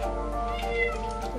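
Cat meowing inside a Minecraft game, a short run of repeated tonal game-cat calls layered over steady background music, with no talking.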